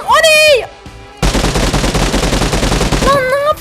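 Loud shotgun blasts fire in a PUBG Mobile match as a dense, punchy burst of gunfire in the middle of the clip. Short vocal sounds come before and after it.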